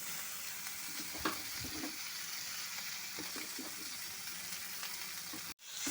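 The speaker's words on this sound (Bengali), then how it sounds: "সমস্ত কিছুর সাথে লাউয়ের খোসাটা একটু ভাজা ভাজা করে নেব" Bottle gourd peels fry in a pan over medium heat with a mixed masala, a soft steady sizzle with a few stirring scrapes and light knocks.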